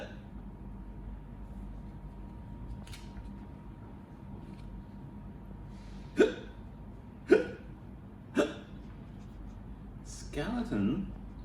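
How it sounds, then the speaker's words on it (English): A cartoon skeleton in a children's story hiccups several times, four short sharp hics spaced about a second apart, then a slightly longer cluster, over quiet background hum. "He had the hiccups."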